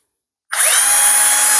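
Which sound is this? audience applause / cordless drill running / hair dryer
cordless drill running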